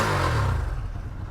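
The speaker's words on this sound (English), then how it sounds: "let's do a sound check on the stock exhaust system" Ducati Streetfighter V2 on its stock, heavily muffled exhaust with catalytic converter, giving a short, close, low rumbling rev that fades slightly toward the end.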